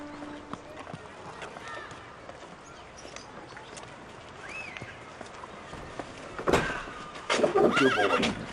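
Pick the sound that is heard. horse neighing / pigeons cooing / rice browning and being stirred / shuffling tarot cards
horse neighing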